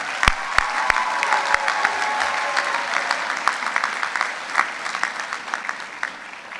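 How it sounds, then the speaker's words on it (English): Conference audience at a 2016 convention session breaks into a round of applause for visiting schools, a few sharp early claps swelling into dense, sustained clapping that thins gradually toward the end. "Let's go ahead and get a round of applause for all the schools that came today."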